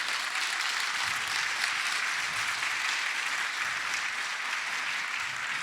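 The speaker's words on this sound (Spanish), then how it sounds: "Vamos a dar aplausos a Dios." A church congregation applauds in steady, full clapping that holds evenly for several seconds, dense and moderately near, with no speech over it.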